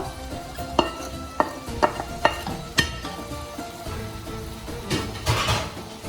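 A spoon stirs spices into biryani in a pot, with sharp, irregular metallic scrapes and knocks against the pot over a soft sizzle, close and fairly quiet.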